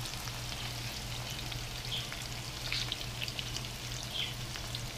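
Perch and crappie fillets fry in a pan with a soft, even sizzle and faint crackles, fairly quiet and continuous with a low hum beneath and no talking.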